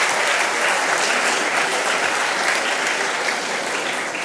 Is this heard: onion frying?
no